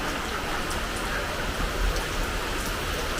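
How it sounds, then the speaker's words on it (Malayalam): Steady rain pours down during a wet, cold day at a home, a dense continuous hiss with a faint patter of drops, fairly close and even throughout with no voices. "മഴ"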